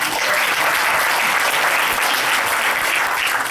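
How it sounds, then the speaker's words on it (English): A gathered congregation at a birthday celebration in New Jersey claps continuously, a loud, dense, unbroken patter of applause with no speech over it. "let me applaud us for all of that"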